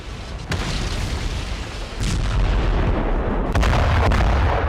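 Russian mortar and artillery fire in the war in Ukraine: three heavy booms land one after another, each setting off a loud rumbling that lingers, with no voices present.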